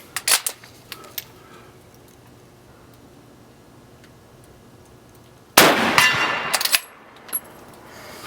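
A Lee Enfield No. 4 Mk2 rifle at a range sounds in a few sharp metallic clacks and clicks near the start. Its bolt is worked to clear jams in one louder burst of metal rattling about two-thirds through, with quiet between the sounds.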